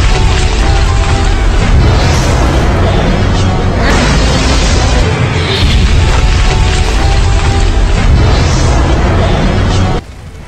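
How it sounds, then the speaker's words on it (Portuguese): A jutsu mod in GTA San Andreas sets off a loud, continuous blast near people and cars, a roaring explosion that stays dense for about ten seconds before dropping suddenly. "E se você apertar depois a tecla TY, ele também vai fazer a explosão."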